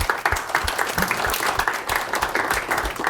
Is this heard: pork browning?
no